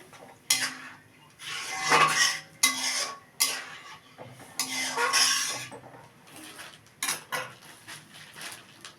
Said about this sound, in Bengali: হাতা দিয়ে খড়া দিয়ে খুন্তি দিয়ে একটু নেড়ে দেবো।